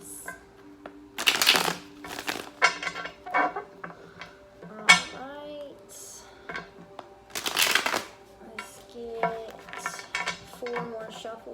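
Tarot cards being shuffled by hand in repeated riffling bursts with soft taps and slides between them, close, with faint tones in the background.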